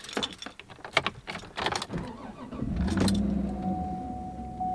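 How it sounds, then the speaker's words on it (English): Keys jangle and click, then an old SUV's V8 engine turns over and settles into a low, steady idle while a thin electronic chime sounds. "You can hear that V8 engine?"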